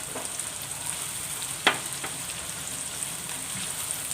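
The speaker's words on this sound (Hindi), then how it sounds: "अब हम इसमें अपनी हरी मिर्च ऐड कर देंगे, उसे भी अच्छे से फ्राई कर लेंगे।" Green chillies frying with ginger and garlic in a pan on lowered flame, a faint steady sizzle with a few small pops and a light clink midway.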